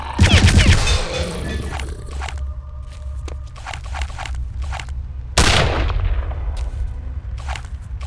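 Gunfire in Return to Castle Wolfenstein: a dense burst of shots to start, then scattered lighter shots and rattling effects, and a second heavy blast of fire about halfway through, all loud and close.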